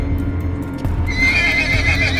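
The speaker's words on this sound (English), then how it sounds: "he heard his horse neighing by the gate" A horse neighs loudly by a gate, a long whinny rising over a few soft hoof clops, close and with no talk.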